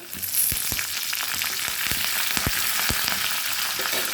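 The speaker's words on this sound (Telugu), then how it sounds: "తర్వాత ఇందులో మళ్ళీ పోపుకి 2 కరివేపాకు రెబ్బలు" Curry leaves drop into hot oil with dried red chillies for a tempering, giving a continuous close sizzle with many small crackling pops scattered throughout.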